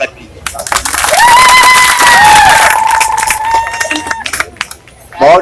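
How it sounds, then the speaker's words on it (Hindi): An audience at a gathering breaks into loud applause and cheering, dense clapping swelling and holding for several seconds with whistles and shouts before thinning out. "उनके लिए आप ताली बजा के स्वागत कीजिए।"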